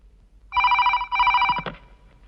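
Telephone bell ringing in two close, loud bursts, followed by a brief clatter, with no talk over it.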